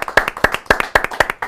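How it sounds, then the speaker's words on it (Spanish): Studio audience on a Spanish-language television talk show clapping for a guest: a brisk, even run of close, sharp handclaps at a steady rhythm, loud and alone without voices. "Este aplauso es para vos y también en forma de agradecimiento de habernos visitado."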